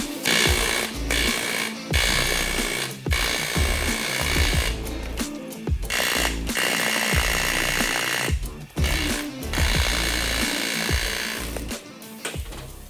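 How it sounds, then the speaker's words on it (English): A compressor-driven air chisel works on the body of a classic Holden being turned into a rat rod. It gives a loud, continuous, rapid metallic hammering in long bursts with brief pauses between them. "get your air chisel, turn the compressor up to beast mode"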